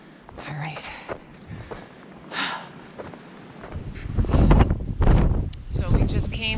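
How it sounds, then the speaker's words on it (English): Gusty wind buffets the microphone on an exposed mountain ridge in the Carter range, rising to loud rumbling blasts in the second half, with footsteps and rustling beneath it and no speech. "We're a little bit out of the wind right here, a little bit, but it's quite windy."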